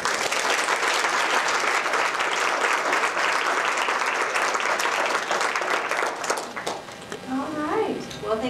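Loud, sustained applause from a leadership-event audience, dense clapping that holds steady for several seconds, then thins out as a voice begins speaking over the tail.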